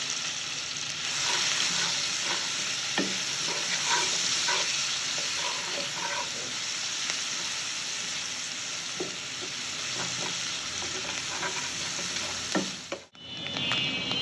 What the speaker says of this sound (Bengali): পেঁয়াজটা সুন্দর মতো ভাজা হয়ে গেছে